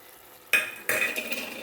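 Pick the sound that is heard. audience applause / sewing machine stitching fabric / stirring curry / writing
stirring curry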